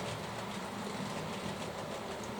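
Two model trains on a short single-track layout with signals keep up a steady, continuous rumble and rolling hum at low speed, with no voices over it.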